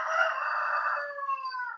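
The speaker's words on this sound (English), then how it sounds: "oh, roosters" A rooster gives a single full crow, loud and clear, lasting almost two seconds with no other sound around it.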